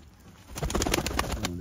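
Pigeons of an old local breed, heard in a brief burst of close cooing and wing flutter that rises for about a second over quiet background.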